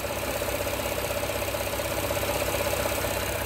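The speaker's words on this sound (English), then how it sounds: "and then the fan just turn on." A Cadillac XT5 idling with its radiator fan running gives a steady, even whir and hum with a faint constant tone, close and unbroken throughout, with no voices.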